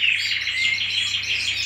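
Many small birds chirp and tweet continuously in a breeder's aviary, a busy, bright chorus of overlapping calls with a low steady hum beneath and no voices.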